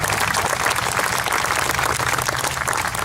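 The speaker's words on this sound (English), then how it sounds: "Yes, you can clap." An audience at the Arcadia Vietnam War Monument dedication claps, a dense, even wash of applause at moderate loudness lasting the full few seconds.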